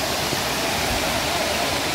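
Sarugudu waterfall, running with little water, gives a steady broadband rush of falling water, even and unbroken throughout with no voices.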